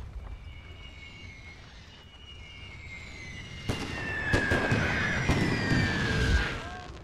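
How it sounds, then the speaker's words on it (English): An artillery barrage in the Total War: The Great War mod, playing as the German Empire, builds into sharp repeated blasts and crackling booms over a steady battle din, growing louder in the second half. "That's a devastating hardy barrage."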